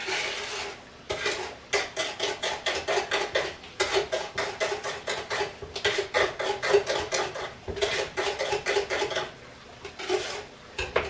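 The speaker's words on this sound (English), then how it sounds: "Just whisk all these things together." Rapid rhythmic whisking of chocolate pie ingredients in a bowl, a steady run of quick metallic clicks and scrapes in bursts, close and fairly loud with no talking.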